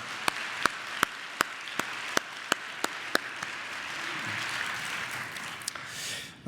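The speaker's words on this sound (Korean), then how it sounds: "한 번 더 우리 박수로 격려하겠습니다." Applause from a women's congregation at a Wednesday morning church service, a steady wash of many hands clapping at moderate volume, with a few sharp distinct claps standing out, before it dies away.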